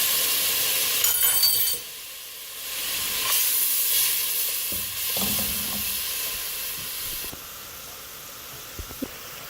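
Blended masala for mash ki daal frying in a pan, a loud hissing sizzle that dips and rises over several seconds, with a few faint knocks near the end.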